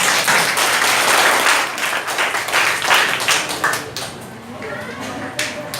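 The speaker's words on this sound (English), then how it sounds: "A round of applause, please." Applause from a debate audience, dense clapping that fades unevenly over several seconds, close and fairly loud.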